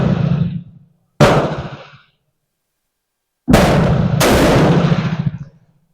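A Madsen M47 rifle fires four loud .30-06 shots with 175-grain hunting loads, two spaced apart and two close together, each a sharp crack with a rolling echo tail, with silence between.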